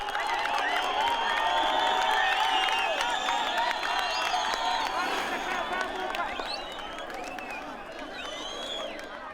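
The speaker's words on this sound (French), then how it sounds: "Des milliers de personnes applaudissent le premier sprint de cette étape." Thousands of roadside spectators cheer, whoop and clap as riders pass the first sprint of a Tour du Rwanda 2018 stage in Muhanga, a loud, continuous crowd roar with shouting voices and whistles that eases slightly toward the end.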